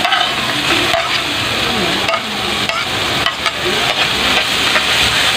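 Sliced green chilies are stirred in a cooking pan with a constant close sizzle, and a spatula scrapes in repeated rhythmic strokes about once a second.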